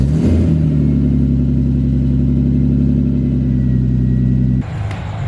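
Turbocharged Ford Falcon engine at cold start, a loud steady rumbling idle with harmonic drone held for several seconds before the note drops as revs fall, no talking.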